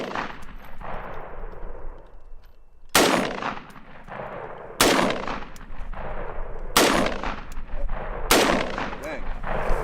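Handgun fired at shooting targets outdoors, five loud, sharp shots spaced a second or two apart, each with a long ringing decay over steady background noise.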